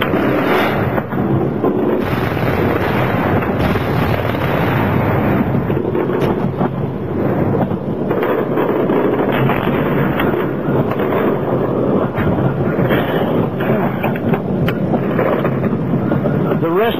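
Continuous low rumbling and booming from distant bombing of a palace during the Iraq war, a dense roar with occasional sharper thuds, sustained throughout at moderate loudness.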